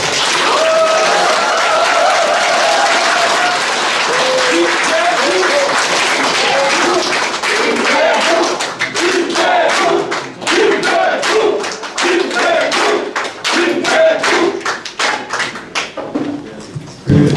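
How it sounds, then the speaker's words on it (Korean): Supporters applaud at a Democratic Party political rally in Gwangyang, South Jeonnam, a dense crowd clapping with some cheers, loud and sustained before thinning into scattered claps toward the end. "다시 한번 우리 지지자들 박수 한번 쳐주시고"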